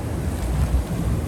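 Waves washing up on the beach at Cancun, Mexico, a steady low rumbling wash mixed with wind buffeting the microphone, continuous and fairly loud with no voices.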